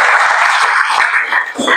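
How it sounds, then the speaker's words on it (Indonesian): A church congregation claps for God during a sermon, a dense, steady wash of applause filling the room for nearly two seconds, with mixed voices and cheering blended in and a brief dip near the end. "Kasih tepuk tangan untuk Tuhan."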